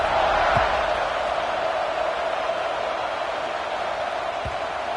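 A stadium crowd in the NCAA 26 college football video game keeps up a loud, steady roaring buzz after a score, sustained throughout with a couple of dull low thumps.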